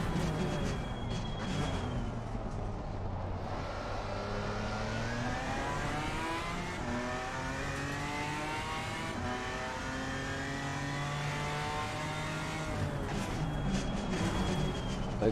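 A race car engine in Assetto Corsa Competizione on Xbox Series S/X revs steadily through the gears, its pitch sweeping up and down in repeated climbs, loud and close throughout with no talk.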